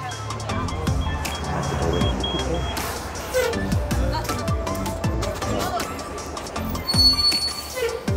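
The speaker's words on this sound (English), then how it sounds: "So here's our lunchroom bus." Steady engine rumble and rattling road noise fill the interior of an Ottawa city transit bus in motion, a continuous moderately loud drone with small knocks and clatters throughout.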